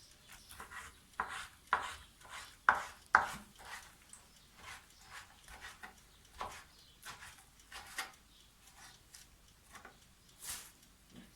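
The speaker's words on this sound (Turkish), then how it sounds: "Küçük doğrayın." A knife taps sharply against a cutting board in a quick, uneven series of close chops, with brief pauses between bursts, finely chopping fire-roasted eggplant and peppers.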